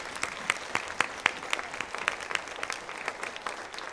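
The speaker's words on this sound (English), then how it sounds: "let's give them a round of applause" Conference audience at the Meydenbauer Center applauding staff, a quiet, sparse patter of individual claps, fairly distant and thin, with a few louder claps standing out early before the clapping fades.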